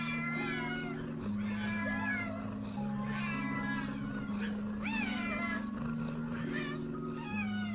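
A fat cat meows repeatedly, the drawn-out, wavering cries coming in a steady series over a continuous musical backing.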